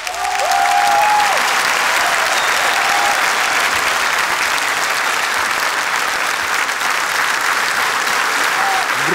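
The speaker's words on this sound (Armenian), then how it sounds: "Բրավո, եկեք իսկապես ջերմ ծափահարություններ" An audience breaks into warm, sustained applause at a celebratory gathering, loud and even throughout, with a few voices faintly audible beneath the clapping.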